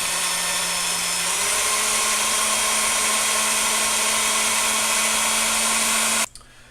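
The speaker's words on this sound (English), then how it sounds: "I'm going to try to drill this nut here without making my hole any bigger" A power drill whines at a steady high pitch, drilling into a metal nut on a Ski-Doo Expedition clutch, grinding continuously for several seconds up close before cutting off abruptly.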